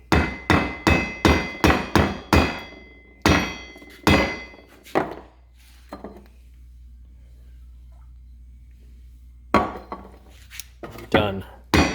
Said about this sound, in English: I hammered on this for a bit